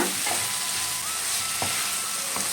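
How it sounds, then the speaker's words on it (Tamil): Fried prawns are stirred in a pan over a slow flame for Kerala-style prawn fry, with a steady close sizzle and a few light scrapes and clinks of a spoon against the pan, with no one speaking. "இப்போ ஸ்டவ்வை வந்து ஸ்லோ ஃப்ளேமில் வச்சுட்டு இதை நல்லா கலந்துக்கோங்க."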